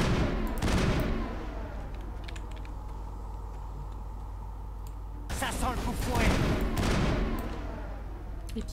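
Gunfire in the Mass Effect video game, sniper rifle shots in the heat of a fight, with sharp bursts near the start and again past the midpoint over a low hum, mixed with talk.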